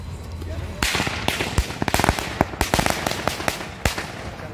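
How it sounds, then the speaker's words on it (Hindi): Diwali firecrackers going off outdoors in Gujarat: a string of sharp, loud cracks and pops in quick irregular bursts, some clustered like a rapid series, over a faint background hum. "चिंटू ले पटाखे, ये लो दीदी वाली ले।"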